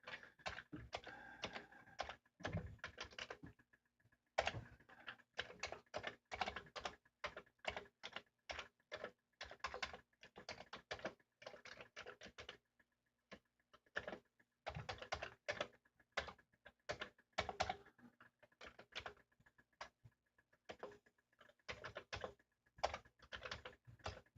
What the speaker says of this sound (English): See if I can type one-handed.